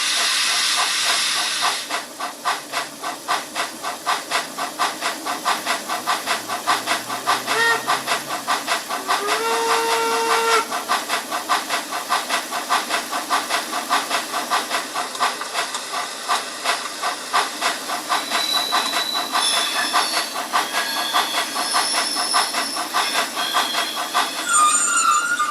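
A Trix Märklin BR44 three-cylinder model steam locomotive with a DCC sound decoder chuffs in a steady rapid rhythm with continuous hissing, close and loud, with a few whistle-like tones.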